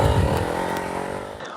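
A motocross motorcycle at full throttle on the run-up to a hill climb: a loud, steady, close engine roar that holds its pitch for the whole moment, with no voices.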